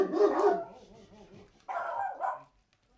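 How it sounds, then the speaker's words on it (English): A dog barks loudly nearby in a couple of short bursts, with a brief gap between them and silence at the end. "That dog has a damnedest bark."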